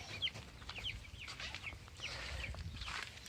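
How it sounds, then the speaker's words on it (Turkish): Soft clucking and high peeping from a flock of 45-day-old chicks and hens in a garden, faint and scattered over a low rumbling background. "Burada her taraf civciv."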